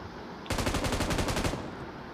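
Rapid automatic gunfire in the shooting game Free Fire, a fast even burst of about a dozen loud shots lasting roughly a second over steady game background noise.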